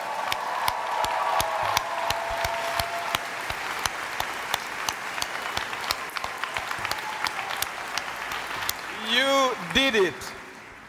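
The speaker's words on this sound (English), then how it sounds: "We can start with a big round of clapping and cheering for you." Audience applause and cheering for graduating students at a college commencement ceremony fill the space as sustained, dense clapping, with a voice speaking over it toward the end.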